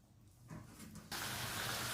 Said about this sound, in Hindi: मेरा थोड़ा सा पानी था, तकरीबन 2 टेबल स्पून के बराबर था, जो मैंने इसमें खुश्क करने के लिए डाल दिया